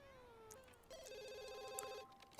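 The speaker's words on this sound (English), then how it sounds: "maybe John will answer the phone" A telephone rings in The Sims 2 game, a bright tonal electronic ring repeating over steady in-game background music, moderately loud with no talk.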